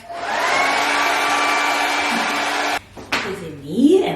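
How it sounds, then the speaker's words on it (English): A blow dryer for drying type 4 natural hair runs as a loud, steady whirring hum, then cuts off abruptly, followed by a brief clatter and a voice. "turn on your blow dryer."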